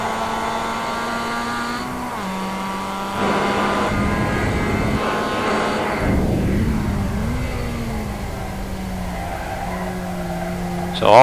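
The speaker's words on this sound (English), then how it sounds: "All 4 wheels sliding." A race car in a 55/65PLUS Fun Fellowship League race slides all four wheels through a high-speed sweeper, its sustained engine tone joined by squealing tires, with a commentator's voice partly audible.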